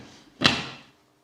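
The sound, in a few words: lid put on a pot of Szeged goulash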